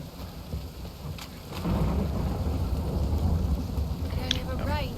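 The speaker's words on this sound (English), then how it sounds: "It only ever rains these days." Steady heavy rain with rolling thunder in The Witcher 3: Hearts of Stone, a dense close downpour that swells louder partway through, with a voice speaking over it.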